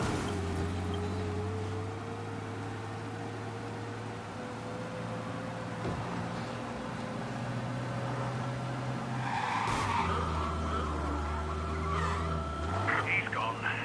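A car in the Mafia remake video game speeds along and skids, engine drone steady throughout with a tire screech near the end, under game dialogue and music.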